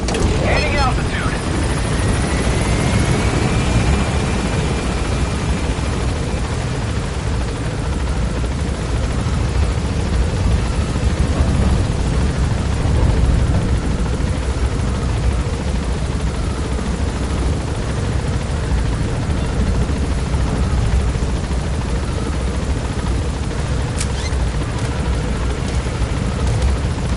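Helicopter in the Metal Gear Solid V: The Phantom Pain video game climbing as it gains altitude, a steady loud rotor and engine roar throughout, with game voices and effects mixed underneath.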